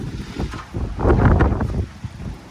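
Strong wind buffets the microphone in heavy, rumbling gusts that swell and fade, with no voices.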